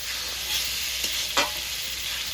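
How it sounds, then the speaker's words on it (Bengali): Small pieces of chicken sauté in a pan for chowmein, a steady quiet sizzle broken by a couple of brief spatula scrapes near the middle, no one speaking. "হালকা হালকা কষিয়ে নিয়েছি"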